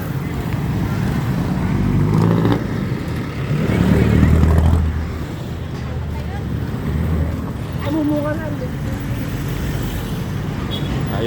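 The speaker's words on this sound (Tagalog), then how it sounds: "Yan, heavy traffic mga boss." Heavy road traffic near Bocaue market, with motorcycles parked and passing, forms a steady close engine rumble with louder swells as vehicles go by, under ongoing talk.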